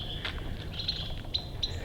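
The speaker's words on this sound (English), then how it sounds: "There are so many birds chattering and squirrels squawking and just so many cool natural sounds." Birds chatter outdoors on a nature walk, several short high chirps and tweets scattered over a soft background hiss, fairly faint and distant.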